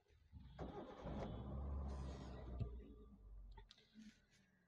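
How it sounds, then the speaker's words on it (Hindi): A Hyundai Santro 1.1 car with a pickup problem and poor mileage is started: a short starter crank catches into an engine that revs up briefly and then settles toward idle, recorded close with some clicking. "अब गाड़ी को स्टार्ट करते हैं।"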